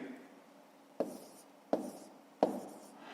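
A pen writes numbers on paper for a long subtraction sum in a fifth-grade maths exercise, with soft continuous scratching broken by three sharp taps at roughly even intervals, close and quiet with no talk.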